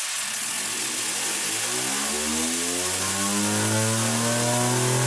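A Lego bladeless turbine driven by compressed air spins up, its whine climbing steadily in pitch like a revving engine and holding loud and close near 9,000 RPM, with no talk over it.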